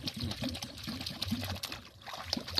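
Water jets under pressure to flush seeds and inner pulp out of a hollowed gourd, a steady close trickling and gushing wash with uneven surges and no talk.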